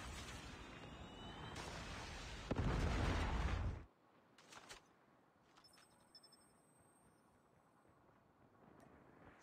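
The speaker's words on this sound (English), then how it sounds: "Predator missile inbound." A predator missile explosion in Call of Duty: Mobile multiplayer hits as a loud, roaring blast that swells for several seconds and then cuts off sharply. Faint scattered pops and clatter follow at a lower level.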